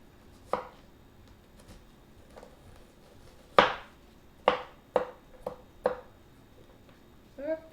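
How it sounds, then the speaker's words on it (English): Onions are chopped on a board with a knife, producing a handful of sharp, separate knocks at irregular intervals, close by and in a quiet room. "Eventually, I will be done chopping the onions, but at this moment, that's all that's happened."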